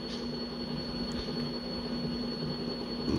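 A train rolls along in a Roblox game with a CSX 5286 lead locomotive, heard as a steady, moderately quiet rumble with a faint constant whine and no talking.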